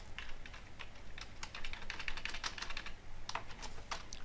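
Steady typing on a computer keyboard while entering test code, quick uneven clusters of key clicks at close range with no talking.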